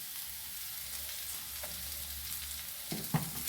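Banana stem pieces frying in oil for a stir fry make a soft, steady sizzle close by, with a brief scrape of stirring near the end.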